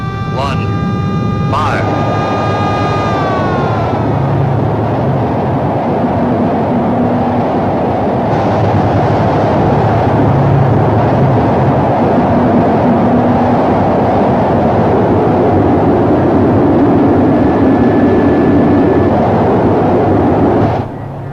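Rocket engines firing at launch, a sustained loud roaring rumble that builds after a brief tonal whine at the start and holds steady to the end.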